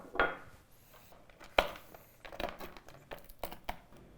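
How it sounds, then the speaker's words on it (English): Mixed nuts being roughly chopped with a paring knife on a board at home while making banana bread, giving a series of sharp, close knocks and crunchy cracks spaced irregularly, with no talk. "I have some mixed nuts here. You can use whatever type of nuts you'd like, and I'm just going to roughly chop them."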